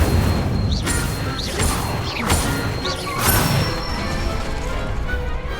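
The Incendio fire spell cast in Hogwarts Legacy, a run of several close, loud crashing bursts and whooshes, roughly one every half second, over a dense steady background and without speech.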